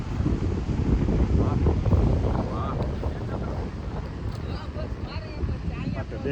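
Strong seashore wind at Madhavpur beach buffets the microphone in a loud, steady low roar, with faint voices in the background.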